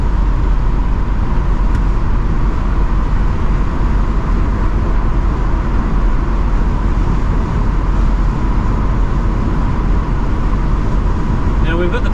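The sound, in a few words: 1970 Mercedes-Benz 280SE 3.5 Cabriolet accelerating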